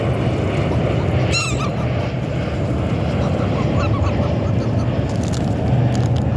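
A flock of birds, apparently geese, gives a few faint honking calls over a constant loud roar of wind or traffic.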